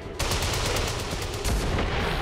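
Enemy gunfire in XCOM 2: War of the Chosen, a loud, dense, continuous burst of rapid automatic shots, close and unbroken.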